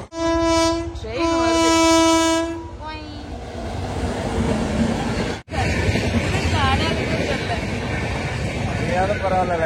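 A train rolls past a level crossing at night, opening with a loud horn blast in the first few seconds, then a steady rumble of wagons going by close and loud until the end.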